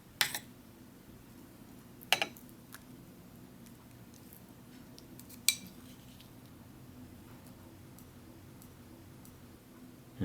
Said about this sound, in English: let's serve up some of this jellied cranberry sauce